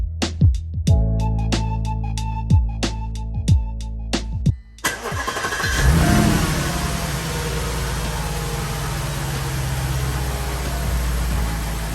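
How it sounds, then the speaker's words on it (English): An Audi S5 engine cranks and fires up, with a few sharp clicks and bumps first, then settles into a steady, close idle that hums on without pause. "now we'll go ahead and get the engine started and let it run for about 10 minutes"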